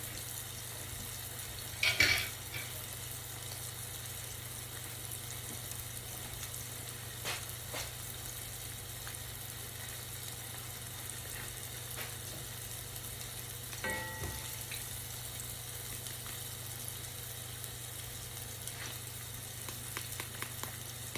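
Pork cracklings for chicharrón frying in hot oil, a steady faint sizzle throughout with a few brief clatters of a fork or pan, no talking.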